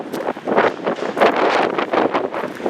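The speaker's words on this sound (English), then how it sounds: "we're on the windy side now" Strong wind gusting loudly across the microphone, a continuous roaring buffet with no voices.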